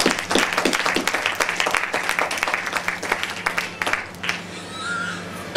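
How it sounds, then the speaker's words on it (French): Steady church congregation applause, many hands clapping together continuously before fading away near the end. "Applaudissons un peu le Seigneur Jésus."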